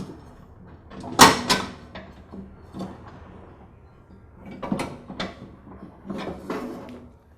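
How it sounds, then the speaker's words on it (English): Someone lifts the transmission pulley off its spindle on a Troy-Bilt Pony lawn tractor and frees the drive belt. A few close, sharp metallic clunks and scrapes come in short bursts separated by quiet gaps, with no voices. "Then I can lift the pulley off of this spindle and remove the belt from around the pulley."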